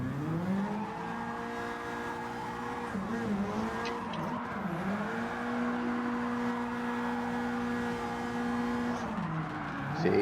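Car engine in Gran Turismo 7 revving steadily through a drift as the e-brake is pulled, with pitch dips and tire squeal over a sustained loud roar, played on a racing wheel.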